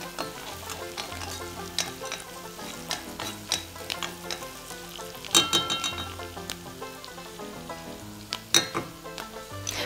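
Onions frying in a pan with tomato and garlic give a steady close sizzle, broken by frequent scraping stirs and sharp utensil clinks against the pan, with no talking.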